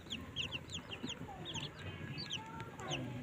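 A brooding hen sitting on eggs near her chicks gives soft, repeated clucks and small chirping calls over a low rumbling background, faint and close, without any voices.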